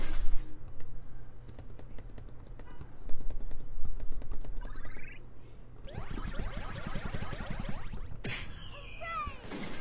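Computer keyboard keys tapped rapidly while playing a Teen Titans Go! browser game, dense clicking under game sound effects and bright electronic tones, with brief snatches of voice.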